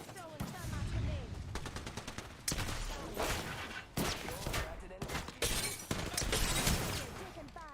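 Apex Legends gunfire, with rapid automatic bursts cracking repeatedly close by, interspersed with sharp single shots and layered game effects, fairly loud across the whole stretch.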